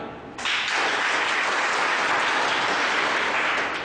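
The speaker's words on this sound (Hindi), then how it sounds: "एक बार तो मेल विंग के तरफ से पहले ताली" Male trainees at a teachers training college programme in Madhepur, Bihar clap together, a sustained burst of group applause that swells in after a brief quiet start and holds steady throughout.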